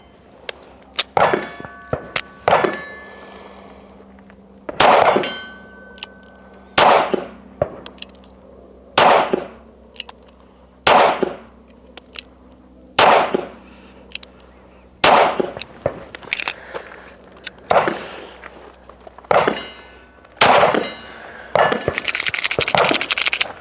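An S&W Performance Center M&P Bodyguard 2.0 Carry Comp pistol fired during a range test: around fifteen sharp, loud reports in an irregular string, each with a brief ringing tail, with short pauses between groups.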